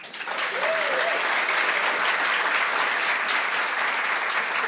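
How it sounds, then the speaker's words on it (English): Audience applause for everyone on stage at a cultural event, dense clapping that rises quickly and stays loud and even, with a brief whistle or cheer early on. "an extra applause to everyone on stage"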